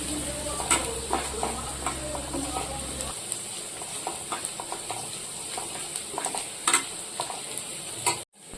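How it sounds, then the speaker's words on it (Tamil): A spoon scrapes and stirs in a pot as hot oil tempering sizzles and bubbles into simmering vathal kuzhambu, with sharp clinks and taps against the metal, close and fairly loud. "இப்போ கொதிச்சுட்டு இருக்கிற அந்த குழம்புல அந்த தாளிப்பை சேர்த்துக்கலாம்"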